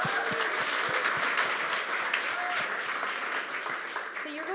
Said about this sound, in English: let's clap it up for them, please